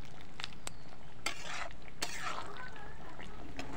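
Papaya dalna curry bubbling in a pan as its gravy cooks down, a steady low sizzle with a few sharp scrapes and clinks of a spoon against the pot, close by and with no talk.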